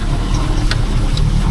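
An auto rickshaw engine drones steadily and loudly while riding along a waterlogged shortcut road, a constant low rumble with a couple of brief higher rattles.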